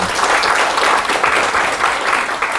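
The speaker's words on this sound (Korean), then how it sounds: "답변해 주시느라고 수고하신 두 분의 형제님께 박수로 한번" An audience at a winter church camp Q&A session applauds two brothers, a loud, dense, sustained clapping that fills the hall throughout.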